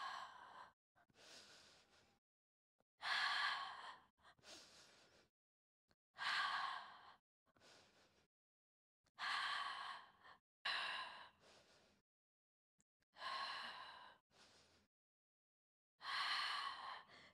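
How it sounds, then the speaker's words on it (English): Repeated audible exhales during a yoga hip exercise, about eight breathy sighs spaced a couple of seconds apart with short inhales between, close and clear in a quiet room. "And exhale."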